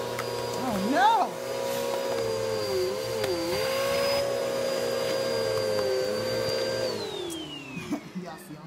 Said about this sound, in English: I'm over here playing my vacuum